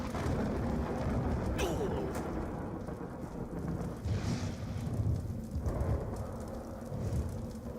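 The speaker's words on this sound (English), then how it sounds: "Somebody call down the thunder." Thunder in the video game Trove, a continuous heavy rumble with rain-like hiss and a few sharper cracks rolling through, loud and steady throughout.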